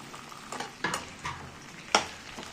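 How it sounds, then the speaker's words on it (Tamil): Chopped tomatoes sautéing in a pan for a restaurant-style chutney, with a soft steady sizzle and a few scraping stirs of a spoon at irregular intervals, close and moderately quiet, no voices. "தக்காளி நல்லா கரைஞ்சி வரணும், அந்த அளவுக்கு வதக்கணும்."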